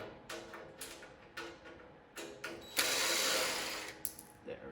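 Screws being backed out of a 12U equipment rack: a series of short ratcheting, rattling bursts from a screwdriver, followed by a longer louder metallic whir, close and in a quiet room.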